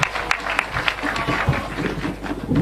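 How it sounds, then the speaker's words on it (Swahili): A crowd at a political rally in Chuka, Tharaka Nithi County, breaks into steady applause: dense, continuous clapping that stays fairly loud throughout, with a few sharper claps and some faint voices mixed in. "Tumpigie CS makofi."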